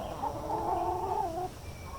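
Backyard hens make a steady, close clucking murmur for about a second and a half, then quieter faint clucks follow.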